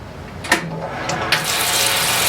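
Cold groundwater runs from a tap into a homebrew fermenter while brewing a Belgian wit, a steady broadband rush of filling water with a couple of brief splashy bursts, close and continuous.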